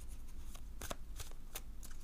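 Playing cards are drawn from a deck, giving a few quick, soft card flicks and rustles close by in a quiet room, with no voices.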